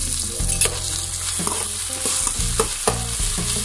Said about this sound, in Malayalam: നല്ലോണം മിക്സ് ചെയ്യാം